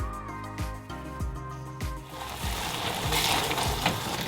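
Canned tuna sizzles and fries in a pan while being stirred, with steady frying hiss building up and repeated scraping knocks of the utensil against the pan.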